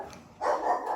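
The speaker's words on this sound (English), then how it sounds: "So dog's kicked off there." A dog barks in a short, sharp burst at moderate distance, alone with no talking.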